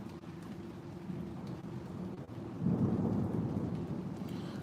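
Low, steady rumble of rain and distant thunder in a thunderstorm with lightning, swelling louder partway through, with no voices.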